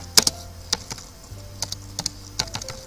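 Keystrokes on a computer keyboard while typing into a Chrome browser search bar, a short irregular run of crisp clicks at close range with no voices.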